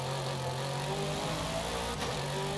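McLaren Sabre supercar in Forza Horizon 5 with a steady, loud engine drone and sustained revving tones, buzzing with a motorbike-like character throughout.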